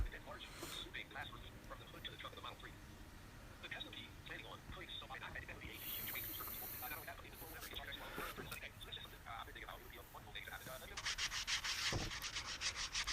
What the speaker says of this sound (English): I just sanded them down by hand to get them smooth.